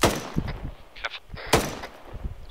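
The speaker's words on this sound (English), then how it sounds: "Let me just empty half my mag on him to make sure." Gunfire in the ArmA 3 military shooter from an M249 machine gun: a couple of sharp, loud shots with short echoing tails, spaced apart rather than a sustained burst.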